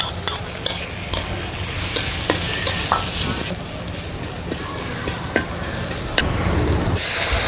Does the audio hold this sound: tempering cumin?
yes